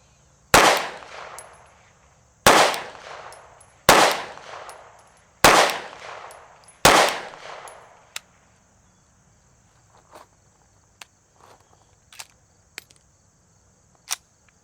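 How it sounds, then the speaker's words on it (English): Five loud, close handgun shots fire Winchester 115 grain white box ammunition at a target, each a sharp crack spaced about a second and a half apart, followed by faint scattered clicks and taps. "We got some Winchester 115 grain white box loaded up. We're going to shoot at the top right target."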